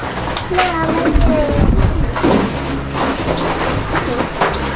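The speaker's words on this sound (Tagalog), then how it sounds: "Ulan nga." Steady heavy rain roars with a dense, continuous hiss, while voices talk faintly underneath and a low rumble swells briefly.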